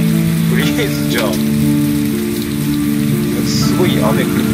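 Heavy rain pours steadily and loudly in the Heavy Rain video game, a dense hiss of drops with faint tonal game sounds layered underneath and no talk.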